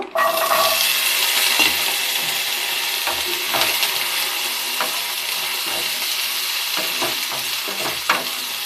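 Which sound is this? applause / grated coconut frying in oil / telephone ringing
grated coconut frying in oil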